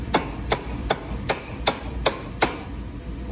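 A hammer drives a bush chisel into stone with seven sharp, evenly spaced metallic taps, close and fairly quiet, with no voices.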